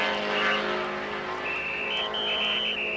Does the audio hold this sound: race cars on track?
yes